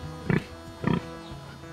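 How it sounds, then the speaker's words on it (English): A pig oinks in a cartoon kitchen scene, two loud close grunts about half a second apart, then a softer trailing grunt, with no talk over them. "There you are, Pig. That's your new home"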